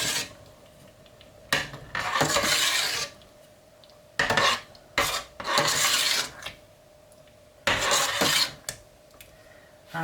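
Tadka being stirred into a pot of tarka dhal, a spoon scraping and rasping against the pan in several separate bursts with quiet pauses between, close and fairly loud with no talk.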